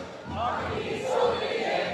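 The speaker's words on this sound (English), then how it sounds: "Let us hear the crowd singing this very important line." A crowd at a protest rally in Old Goa sings a chant together, a dense mass of voices sustained throughout, loud and close.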